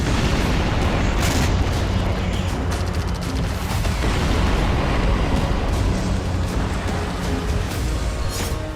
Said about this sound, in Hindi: कीव के ईस्ट से साउथ तक के इलाकों में बेहिसाब बारूद बरसाया गया।